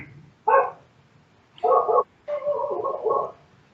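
A neighbor's dog barks a few times some distance away, with short separated woofs and then a longer run of barking in a quiet outdoor setting.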